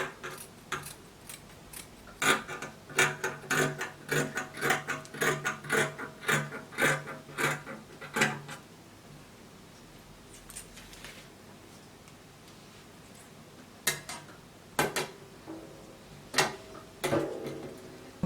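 Scissors snip through fabric for a child's one-shoulder party dress in quick, close bursts of crisp cuts, pausing before more short runs of snipping.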